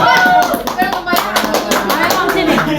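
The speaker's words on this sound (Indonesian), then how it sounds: "Sok tepuk tangan" A group claps in a steady rhythm during a concert rehearsal with children, the sharp hand claps loud and close while voices talk over them.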